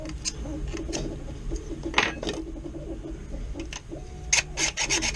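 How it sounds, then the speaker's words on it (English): Rough sanding strokes on round plastic pegs rasp in short, uneven bursts, close by, with small taps and knocks of plastic parts between them. "you're gonna have to do a little bit of sanding on these round pegs"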